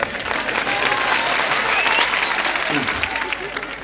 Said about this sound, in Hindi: 2-3 तालियों के लिए बहुत धन्यवाद